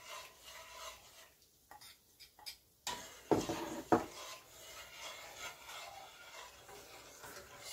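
A spoon scrapes and rubs around a pot of Jamaican cornmeal porridge on the stove, with soft intermittent strokes and a couple of sharper clinks against the pot, faint and close.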